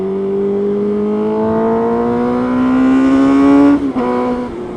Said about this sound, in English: a little motorcycle rider there just behind me.